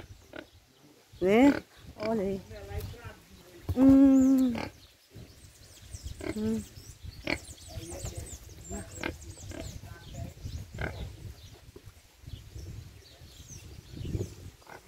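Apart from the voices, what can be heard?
pigs in a pigsty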